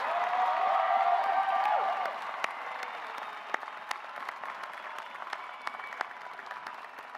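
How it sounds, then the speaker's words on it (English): Audience applause for new graduates at a university graduate commencement ceremony, a broad steady wash of clapping from a large crowd that eases slightly after two seconds and continues with distinct individual claps. "How about one more round of applause for our amazing students, now graduates."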